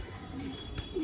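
Large pigeons give a faint, soft coo through a steady hiss of background noise, brief and somewhat distant.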